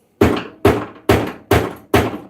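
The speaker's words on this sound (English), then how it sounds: "Alright, we're gonna hear some hammers." Hammer blows on a car part ring out five times at an even pace, each a loud, close metallic impact that decays quickly, with no talking.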